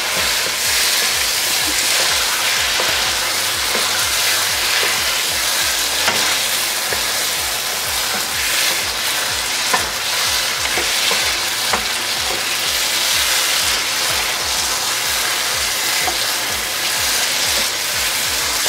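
Pumpkin with sauce stirred and frying in a pan for Afghan kaddo bourani, a steady loud sizzle with repeated scraping stir strokes throughout and no talking.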